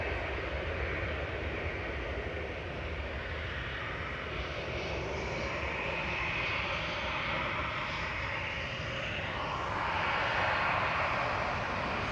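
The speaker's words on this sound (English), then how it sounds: "That was PHBXG departing back to Amsterdam with flight 1028." A KLM Boeing 737-800 departs Manchester Airport for Amsterdam, its jet engines a steady, broad roar heard from a distance that holds level throughout and swells slightly near the end, with no voices over it.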